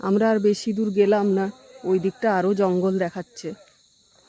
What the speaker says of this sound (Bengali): কেমন একটা ঝিঝি পোকার ডাক সবসময় একটা শোনা যাচ্ছে